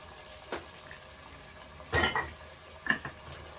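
Non-vegetarian curry ingredients being sautéed in a pan with rock salt, heard as a few scraping stirs and clinks of a spatula over a faint, steady sizzle.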